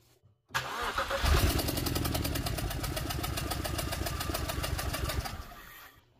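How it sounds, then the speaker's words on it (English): A BMW N52 engine cranks briefly and catches, then settles into a steady, loud idle for several seconds before shutting off, heard up close with no talking. "Let's go start the engine."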